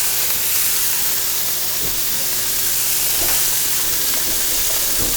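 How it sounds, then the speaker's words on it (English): Butter and garlic frying in a hot pan give a loud, steady, close sizzle and hiss with a few faint clicks and no talk. "I'm going to put some butter and garlic in."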